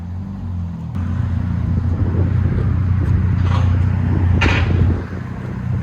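A RAM 1500 pickup with the 3.6-liter V6 and an aftermarket exhaust idles and backs up nearby, a loud, steady low rumble with a brief rise in engine note and a couple of faint knocks partway through.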